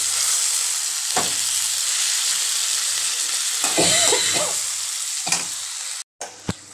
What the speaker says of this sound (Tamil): இந்த மாதிரி வெங்காயம் தக்காளி நல்லா குழஞ்சி வந்த வாட்டி